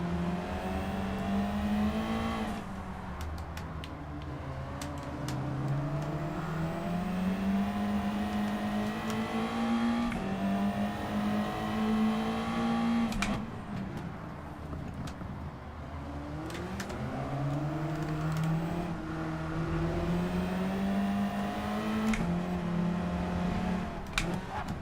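Race cars in Gran Turismo 7, including a Ferrari, scream through a Group 4 race at Grand Valley Highway reverse, engines climbing and dropping in repeated gear-shift sweeps, loud and continuous with no talking.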